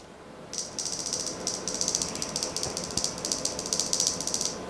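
X-PEST ultrasonic rodent repellent for cars and indoor use emitting a rapid, high-pitched chirping rattle in continuous pulsing bursts, close up, over a faint background hiss.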